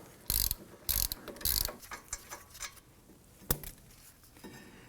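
Bolt being removed from the caliper bracket of a 2003-2014 Volvo XC90 during a front brake job, heard as three loud ratchet bursts close up in quick succession, then quieter clicks and one sharp knock.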